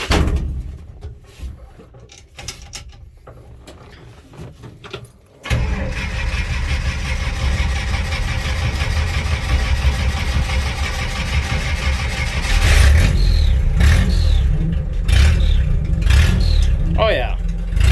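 An International Scout 80 engine cranks through a few quiet seconds, catches abruptly and settles into a loud, close idle, then revs up in several bursts toward the end.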